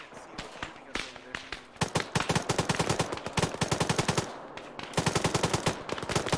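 Rapid bursts of automatic gunfire and single shots crack through a military video game firefight, loud and dense with short pauses, some rounds close and others more distant, with faint voices in the background.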